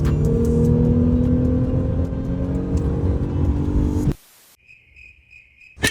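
A Honda Ridgeline pickup truck's engine rumbles steadily and loud up close for several seconds, then cuts off abruptly, leaving near silence with faint electronic tones.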